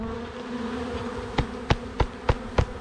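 Honeybees drone steadily on a frame lifted during a hive inspection. The continuous buzzing runs throughout, and five sharp knocks punctuate it at roughly even intervals in the second half.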